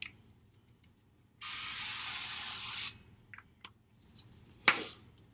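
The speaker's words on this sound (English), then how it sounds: "We're just going to spray it down with some nonstick spray." A steady hiss of nonstick cooking spray onto a pan lasts about a second and a half, close up, followed by a few small clicks and a clatter.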